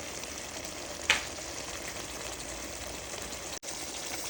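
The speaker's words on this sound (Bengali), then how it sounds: "মাছগুলো আমি ভালো মতো কষিয়ে নেব" Hilsa fish sautéing in a pan, a continuous soft frying hiss with one brief clink, close and quiet with no talking.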